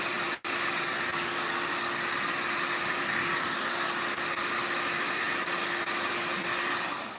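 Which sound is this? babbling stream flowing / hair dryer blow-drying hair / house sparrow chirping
hair dryer blow-drying hair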